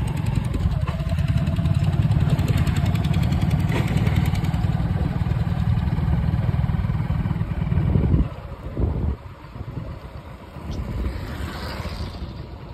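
Motorcycles doing stunts near a new railway station, a loud, close engine drone holding steady for about eight seconds before dropping off, then a quieter, fluctuating rumble as the bikes move away.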